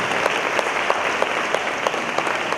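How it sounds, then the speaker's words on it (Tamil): A church congregation applauds at a New Year 2025 midnight mass, a loud, close, steady wash of many hands with faint rhythmic beats running through it, with no talking over it. "எல்லாரும் அம்மாதாவுக்கு நல்லா ஜோராக கைத்தட்டுக்கு பார்ப்போம்"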